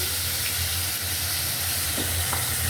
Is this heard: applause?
no